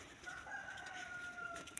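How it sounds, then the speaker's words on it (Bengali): A rooster crows in the distance on an early winter morning among village trees, one faint drawn-out call over soft ambient hiss. "ওদিকে মোরগ ডাকছে।"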